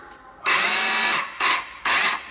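A Japanese battery-powered drill runs in three bursts, a longer whirring spin followed by two shorter ones, loud and close with no talk.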